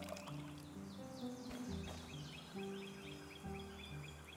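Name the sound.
watering crops with a watering can in the video game Hokko Life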